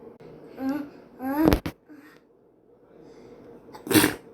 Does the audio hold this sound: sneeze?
yes